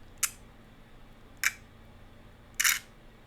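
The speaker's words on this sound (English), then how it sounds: "The three shutter sound options differ slightly. These are the X-T200's." Three separate shutter clicks from a Fujifilm X-T200 camera, each short and crisp, the last a slightly longer double-click, spaced apart over quiet background.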